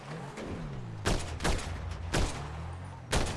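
Bursts of gunfire in a GTA shootout, four or five sharp, loud cracks spaced unevenly over a steady background hum, with no talking.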